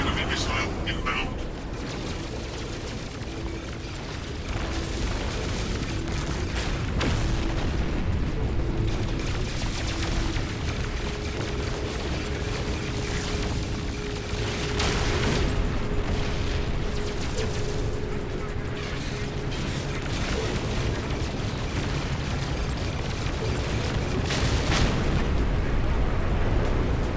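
Enemy missiles explode continuously in No Man's Sky space combat, a dense, loud wash of booming blasts and crackling bursts layered with a steady drone, with a voice speaking over the din.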